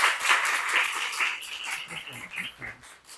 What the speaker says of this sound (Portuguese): salva de aplausos para a Marcele